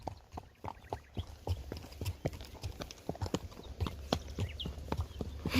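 A pony's hooves clip-clop along a path in a steady walking rhythm, the close, crisp hoofbeats ringing out over a quiet outdoor background.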